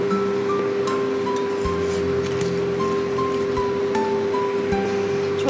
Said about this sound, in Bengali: ঝোল ফুটে উঠেছে, এবারে ভেজে রাখা মাছগুলো সব দিয়ে দেবো।